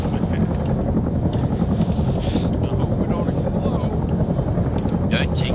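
Helicopter flying overhead produces a loud, continuous low rotor thump and drone throughout, steady and close, with faint voices and a little wind buffeting.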